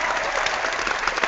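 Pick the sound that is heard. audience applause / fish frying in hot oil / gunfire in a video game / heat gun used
audience applause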